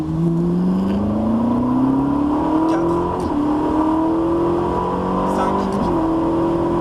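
A Ferrari 458 Italia engine revs hard and rising through the gears on a racing circuit, with a brief dip at each shift, while a voice counts over it.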